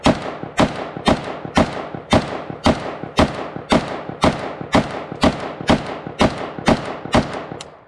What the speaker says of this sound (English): Now I'll try the mini Beryl as a true pistol.